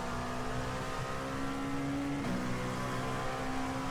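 Dallara P217 LMP2 prototype engine in the iRacing simulator at a race start, a sustained steady drone with one brief dip during a shift.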